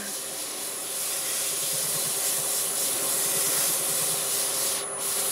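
Wood lathe turning a red cedar piece at around 500 RPM, a steady rubbing, sanding-like hiss with a faint constant whine running evenly throughout, no talk.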